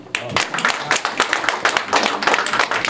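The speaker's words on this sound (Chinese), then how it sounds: "给我个掌声。" People clap at a press conference for a bamboo flute concert, a close, uneven patter of individual hands rather than a full roar. It starts abruptly and keeps a choppy rhythm.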